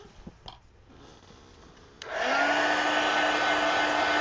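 A hair dryer starts up midway over a quiet room with a few light taps, then blows steadily and loudly with a constant whine, drying ink on an art journal page.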